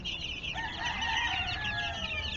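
Gamefowl roosters crow in a dense overlapping chorus, several long rising-and-falling calls layered together at close range with steady background noise and no talk.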